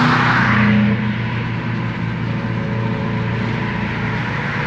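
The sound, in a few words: Subaru car exhaust with no mufflers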